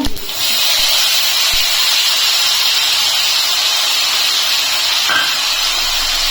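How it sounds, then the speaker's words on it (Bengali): Whole garam masala spices, cumin, cloves, cardamom, cinnamon and a bay leaf hitting hot oil, a loud, steady hiss of frying that holds throughout with no talk. "এরপর আমি ফোড়ন দিয়ে দিচ্ছি ফোড়নে দিচ্ছেন জিরে আর গোটা গরম মশলা দু টুকরো লবঙ্গ দু টুকরো এলাচ আর দারচিনি আর একটা তেজপাতা"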